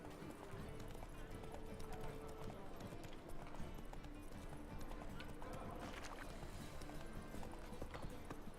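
Hooves of Geralt's horse Roach in The Witcher 3 clop in a quick, steady rhythm beneath game music and ambience, faint and continuous throughout.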